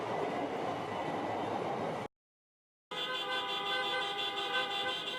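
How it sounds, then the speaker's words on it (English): Taxi cab horns honk in bumper-to-bumper downtown Chicago traffic during a drivers' protest, sustained tones in two stretches split by a brief silence. "Riding bumper to bumper while honking horns, cab drivers make their way through downtown Chicago"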